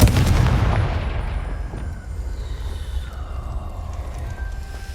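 A Confringo fire spell explosion in the video game Hogwarts Legacy, a heavy boom at the start that fades into a long, rumbling decay.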